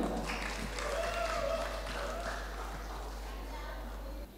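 Applause from the audience at a pesantren graduation ceremony for male and female students, a dense, steady clapping that holds for several seconds before breaking off abruptly.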